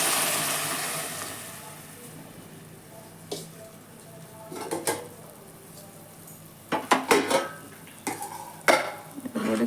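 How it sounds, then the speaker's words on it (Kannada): Water heating in a pot on the stove for tomato bath, a soft steady bubbling hiss broken by sharp clinks and scrapes of a utensil against the pot, growing busier toward the end. "ನೋಡಿ ಕುದೀತಾ ಇದೆ."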